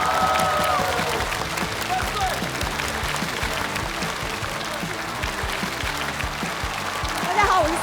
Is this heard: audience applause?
yes